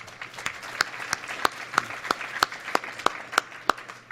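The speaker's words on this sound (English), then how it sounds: "Can we give her a round of applause?" Sparse, slow clapping from a small audience at a law enforcement summit, a dozen or so distinct claps in a loose steady rhythm, fairly near and moderate in level with no other sound.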